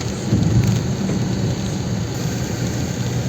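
Steady heavy rain and rolling thunder over Delhi streets with light traffic, a continuous loud hiss of rainfall with low rumbles, no voices.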